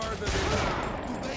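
Gunfire in the video game Haze, a fast burst of rattling automatic shots, loud and dense for barely over a second, with faint voices mixed underneath.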